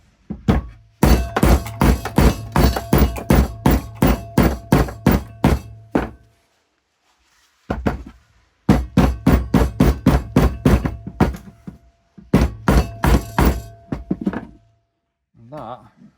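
Steady hammer blows beat a BMW E60 rear suspension part flat, coming in fast loud bursts of metallic thumps split by short pauses.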